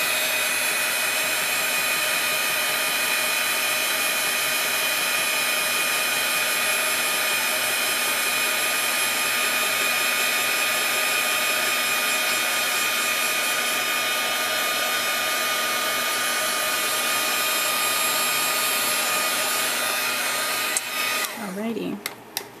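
Heat embossing tool blowing on a simple card, a close, steady high-pitched whirring hum held for about twenty seconds before it is switched off with a few clicks.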